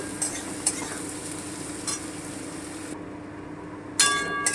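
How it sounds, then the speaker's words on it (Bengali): Onions frying in a pan until brown, a steady soft sizzle with occasional light scrapes of a spatula, close up and moderately loud, no voices present. "এবারে আমি খুব ভালো করে পেঁয়াজটা ব্রাউন ব্রাউন করে ভেজে নেব"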